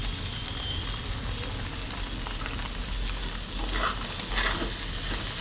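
Ground spices being stirred in a cooking pan give a steady sizzling hiss with intermittent scraping of a spatula, growing slightly busier toward the end.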